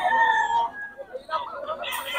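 Rooster crows loudly and close at a fighting-chicken market, a long drawn-out call followed by shorter clucks and squawks from other fowl nearby.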